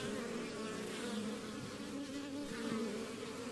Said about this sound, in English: So you can see how calm and gentle these bees are.